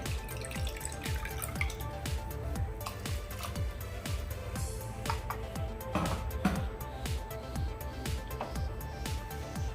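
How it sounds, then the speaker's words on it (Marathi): Water splashes and trickles into a pressure cooker of black bean spiced rice, with a run of small drips and clinks close by. "मी आणखी अर्धी वाटी पाणी घालून घेते"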